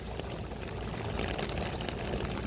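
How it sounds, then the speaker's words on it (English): Water flows steadily through a French drain, a close, continuous pouring rush without pause. "Water's moving through the French drain."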